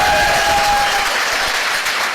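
Audience in a hall clapping at a motivational business seminar, a loud, dense burst of applause filling the whole moment.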